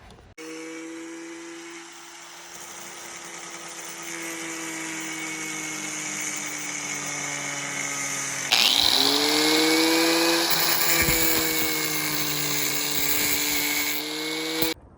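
A power tool shaves down a fender on a G35 coupe during a G37 front-end conversion. A steady, high, whining drone runs throughout and grows louder and harsher about halfway through, with no talking.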